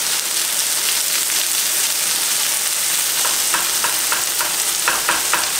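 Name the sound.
frozen white corn sautéing and sizzling in a pan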